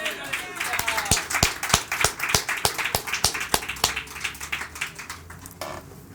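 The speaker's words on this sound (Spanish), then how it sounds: "Dale un fuerte aplauso a Dios." A church congregation claps in a steady rhythm, sharp hand claps repeating under a murmur of voices, then the clapping tapers off near the end.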